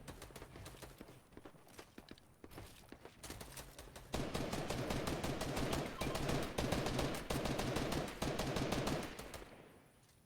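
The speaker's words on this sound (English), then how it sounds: "Some shots fired close, however, nothing making contact with anybody." Rapid gunshots in the Fortnite video game, loud sustained bursts of automatic fire with short gaps, close and dense, over a game background.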